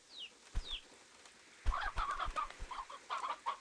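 Rooster and fowl clucking from the farm animals in the video game Slime Rancher 2, with a couple of high calls early on, then a run of rhythmic clucks close by, with no talking.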